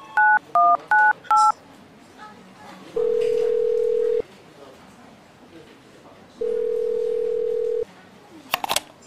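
A telephone number is keyed in with four quick electronic button tones, then two long, steady ringback tones separated by a pause, heard clearly and close, with faint background noise.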